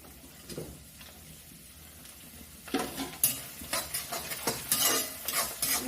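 Ginger, garlic and coconut pieces fry in oil in a pan, a soft sizzle under stirring that brings close clinks and scrapes of a spoon on metal, busier and louder in the second half.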